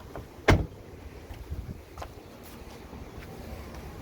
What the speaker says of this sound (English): the door still shuts